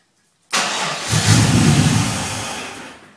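An LS1 car engine cranks and briefly fires with the fuel pump relay pulled, a loud sudden burst of engine noise that swells, then fades out as it dies within about three seconds.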